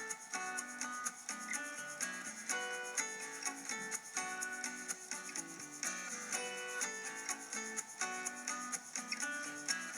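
A wire brush scrubs rust off a 1946 Utilex multi-tool in steady, close rasping strokes that repeat without pause, over faint background hum and with no voices.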